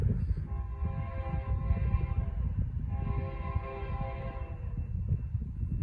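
Norfolk Southern freight train NS 282 passing on the Charlotte District, a heavy low rumble of rolling cars with a tonal horn-like chord sounding intermittently over it, steady and fairly close throughout.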